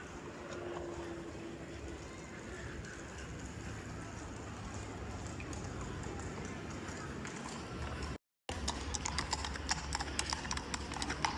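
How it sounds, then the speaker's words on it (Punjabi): Police horses on patrol at the Colosseum in Rome clop their hooves in a steady rhythm over a busy outdoor murmur, with people talking nearby. "ਸਾਰੀ ਪੁਲਿਸ ਘੋੜਿਆਂ ਉੱਤੇ ਫਿਰਦੀ ਹੈ"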